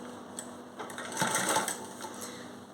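Sewing machine stitching a zipper into a pair of trousers, a soft close whirring run of stitches that swells briefly in the middle and stays fairly quiet overall, with no talking over it.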